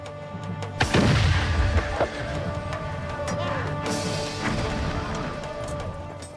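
Heavy cannon bombardment of the walls of Constantinople, with booming impacts and crashing blasts near the start, then a sustained rumbling barrage of dense, layered noise throughout.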